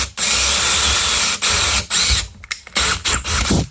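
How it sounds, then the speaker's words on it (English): A power drill bores screw holes through a cabinet door for a knob, whining loud and close in long runs, then stopping and restarting in short bursts near the end. "So drill the hole where the screws go in."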